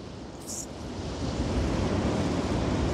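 Strong wind gusting at a winter beach campsite, a loud, continuous rushing roar buffeting the microphone and mixed with surf, building slightly stronger over a few seconds.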